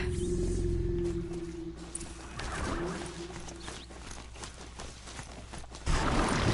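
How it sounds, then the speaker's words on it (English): Robot horse Strider galloping in a video game, with steady clip-clop hoofbeats that carry on through the clip alongside other game sounds, growing louder again near the end. "This Strider is fast! This beats walking."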